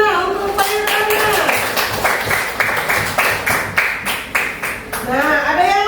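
Classroom students clap their hands together in a burst of applause, with overlapping voices cheering and calling out at the start and end.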